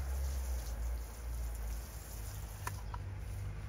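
Water sprinkled over a freshly sown carrot seedbed, a soft steady patter of droplets on moist soil with no voices, continuous and fairly quiet throughout.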